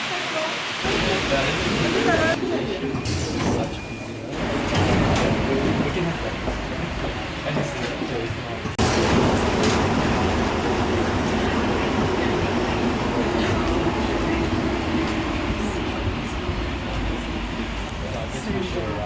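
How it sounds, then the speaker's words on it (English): A rubber-tyred Paris Metro line 6 train runs along its route, a loud continuous rumbling roar with shifting tone partway through, while a voice speaks over it. "The line 6 is a tyre wheel metro."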